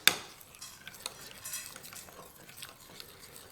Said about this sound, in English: this is about a quarter cup of butter. We're going to mix that in.